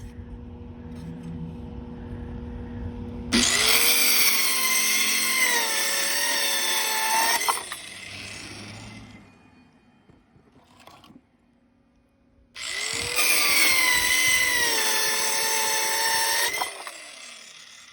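A small SeeSii circular saw cuts through wood in two long passes, each a loud, close, high whine rising as the blade bites and lasting about four seconds, with a quieter gap of handling noise between them.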